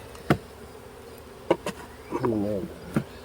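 A few bees buzz close by in short bursts, one drawn-out hum wavering in pitch between sharp passes.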